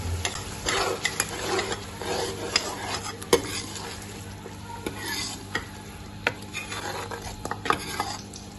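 Peshawari chicken korma with yogurt and green chillies stirred and fried in a metal pot, the spoon scraping and clinking in steady rhythmic strokes over a constant close sizzle.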